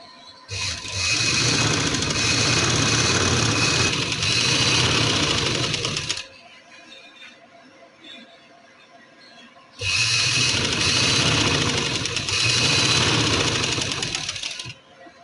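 Sewing machine stitching along the edge of a shirt for a panel kameez, two long steady whirring runs of rapid stitching separated by a quiet pause of several seconds, close and loud.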